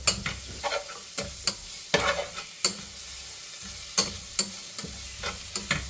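Ginger and garlic frying in very hot oil in a pan for mutton majboos, a steady sizzle broken by regular sharp scrapes and knocks of a spoon stirring, loud and close with no talk.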